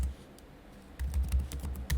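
Typing commands on a computer keyboard: quiet at first, then a close burst of rapid, irregular key clicks and thumps for about a second, with no talking.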